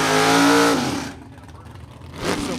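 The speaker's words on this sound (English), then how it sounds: "Next up, the Impala of Dan Kunster." Chevrolet Impala drag car at a vintage drag race, a hemi-swapped Mopar-powered entry; a loud, close engine rev that fades after about a second, then rises again briefly.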